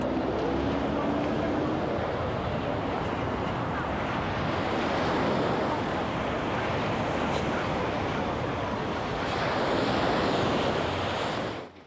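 Ocean surf rolling in with the tide on the coast at Busan, South Korea, a continuous loud wash of waves mixed with heavy wind buffeting the microphone.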